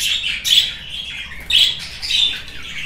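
Budgerigars in a breeding aviary, including a lutino female, give repeated sharp chattering squawks in bursts, fairly close and loud with no talk.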